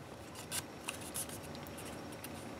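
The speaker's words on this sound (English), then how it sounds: "fold this top flap down and fold this flap" Paper being folded to make a swallow-style paper airplane: soft, close crinkles and sharp creasing rustles in short bursts over a quiet background.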